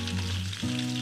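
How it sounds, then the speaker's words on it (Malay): Pieces of chicken marinated with salt, seasoning powder, turmeric and pounded spices fry for Malaysian ayam goreng berempah, a steady loud sizzle of hot oil with no voices. "Lepas tu goreng hingga masak."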